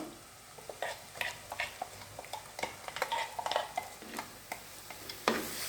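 Ground masala paste is stirred into fried chillies in a pan for a Kerala-style stingray curry, giving repeated scraping and clattering stir strokes over a soft sizzle, close and moderately loud, with no speech.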